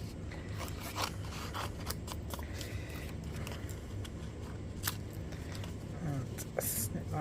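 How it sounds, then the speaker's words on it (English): Scissors snip through layered paper card in a papercraft project, a run of close crisp cuts with soft rustling between, while a person talks over the work. "I need to cut this off and then it'll look right."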